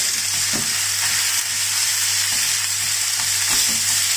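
Pork stir-fries with garlic and chili in a hot pan for Thai pad kra pow moo, a dense, constant sizzle with occasional spatula scrapes.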